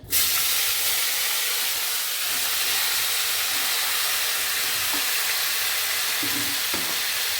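Cauliflower and potatoes fry together in hot oil, giving a steady, loud, continuous sizzle close by with faint stirring clinks, no voices.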